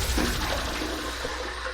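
Water from a bathroom sink splashes steadily for a brief moment as a face is wetted before a shave with a Yates 921M razor.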